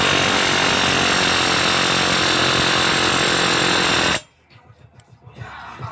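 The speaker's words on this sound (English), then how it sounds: "Air hammer on it." A loud, continuous rapid hammering of an air hammer up close on a weld bead over a broken exhaust manifold bolt, cutting off abruptly near the end, followed by quieter scattered noises.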